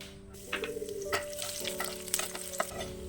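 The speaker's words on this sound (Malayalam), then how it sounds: "ഇനി മുളക് മല്ലി സവാള ഉള്ളി ഇതെല്ലാം നല്ലെണ്ണയിലോ അല്ലെങ്കിൽ വെളിച്ചെണ്ണയിലോ ഒന്ന് ചെറുതായിട്ട് മൂപ്പിച്ചെടുക്കണം" Chilies and coriander fry in coconut oil in a pan with a steady crackling sizzle, broken by scraping stirs, while a low steady hum runs underneath.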